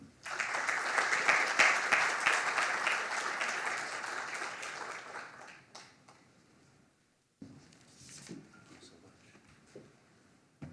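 An audience claps to welcome a professor at a digital humanities institute event in Beirut. The applause is dense and sustained, then fades and stops, and a short burst of movement and speech follows.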